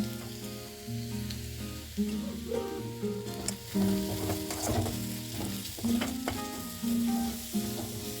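Onions with salt stir-fry in a pan, a continuous soft sizzle under repeated scraping and clinking of a spatula, close by, alongside a steady low hum, with no voices.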